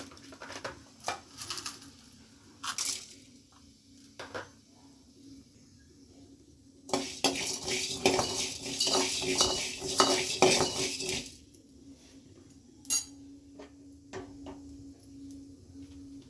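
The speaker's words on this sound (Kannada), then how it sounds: "ಈಗ ಮಸಾಲ ಹುರ್ಕೊಳ್ಳೋಣ ಬಾಣಲೆಕಾಯಿ" Metal spoon scraping and clinking in a frying pan (banale) as whole spices for green pea sambar are dry-roasted, with intermittent stirring bursts and a denser stretch of rapid scraping near the middle, close and moderately loud.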